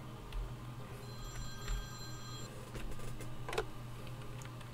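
A telephone rings in the Priest Simulator game, thin electronic tones repeating over a low steady hum with soft background clatter, moderately quiet and with no talking.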